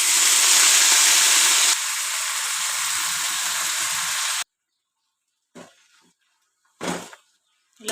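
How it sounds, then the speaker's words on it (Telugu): Amaranth leaves (thotakura) tossed into a hot pan with ginger-garlic paste, giving a loud steady sizzle that drops to a softer hiss, then silence broken by two short bursts of frying crackle. "ఇప్పుడు తోటకూర వేసుకుందాం"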